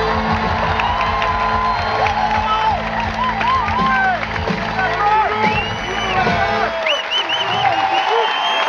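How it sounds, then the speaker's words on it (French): Concert audience applauding at a French band's live show, a dense sustained roar of clapping mixed with cheers, whoops and shouts that carries on throughout. "Applaudissements."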